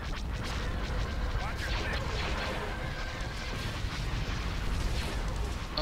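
Units in the video game Star Wars Empire at War fire on a target, a dense, continuous wash of blasts and explosions rumbling at steady loudness throughout, with game battle noise layered densely over it.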